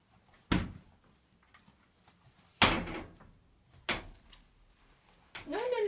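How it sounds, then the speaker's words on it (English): Several sharp thuds sound a second or so apart, like a door being pushed shut, with quiet background noise between. "Shall we close the door?"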